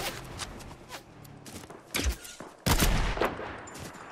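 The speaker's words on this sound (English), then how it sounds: "Oh, I sniped somebody!" Sniper rifle shots in a multiplayer battle royale video game, with a couple of sharp loud cracks standing out over a busy background of game noise and scattered distant gunfire.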